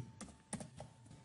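A file name being typed on a computer keyboard while a Prolog program waits for input: a few soft, separate key taps spread across a second, quiet and close.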